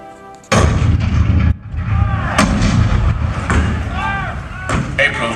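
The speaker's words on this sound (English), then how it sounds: "The cannon spoke for war, bitter, violent, and devastating." Cannon fire from a Fort Sumter show effect at a theme park attraction: a sharp, loud boom followed by rumbling reverberation and further blasts, with a narrating voice over the top.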